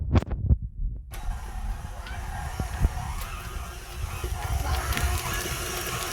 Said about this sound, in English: So I'm gonna turn my machine back on and mix in this butter